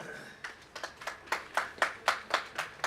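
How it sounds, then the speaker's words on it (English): Sparse hand claps from a few people at an income tax study circle session, about eight or nine separate claps in an uneven rhythm, rather faint and distant, with no talk over them. "I think you need to applaud a person."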